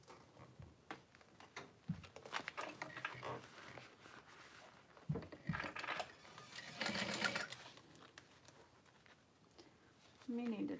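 A sewing machine stitches a small Valora bag in quiet bursts of rapid whirring separated by short pauses, with soft talking in the background.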